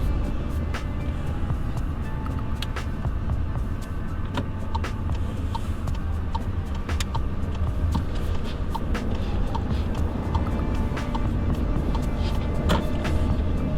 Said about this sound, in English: It does feel like it's a bit sluggish when you step on the accelerator.